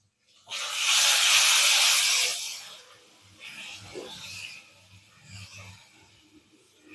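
Ginger garlic paste hits a hot pan for an egg kurma and bursts into a loud, bright sizzle for a couple of seconds, then settles into a quieter ongoing fry with faint stirring.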